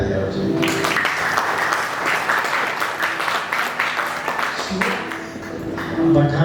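Clapping from a crowd of guests at a baby girl's first birthday party, a dense, steady patter of many hands lasting throughout with a brief dip near the end, while voices murmur underneath.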